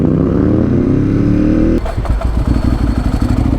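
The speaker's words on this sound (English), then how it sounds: "hearing that lovely noise coming from his MT07" Yamaha MT-07 motorcycle engine revving loudly nearby with a steady rising drone that cuts abruptly into a rough, lumpy idle-like rumble.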